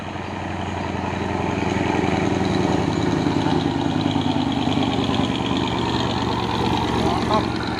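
Diesel engine of a Mitsubishi Fuso truck running steadily nearby, a continuous low rumbling drone with traffic noise around it and people talking over it.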